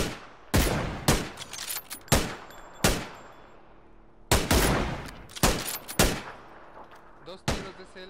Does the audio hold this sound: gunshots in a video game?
yes